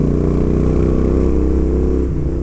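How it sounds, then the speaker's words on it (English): Royal Enfield Interceptor 650 motorcycle with open headers and open mufflers revving, a loud deep throaty exhaust roar that holds steady and eases off slightly at the end. "I've got Hitchcock's open headers on the bike and Scorpion open mufflers. It just brings a wonderful soundtrack."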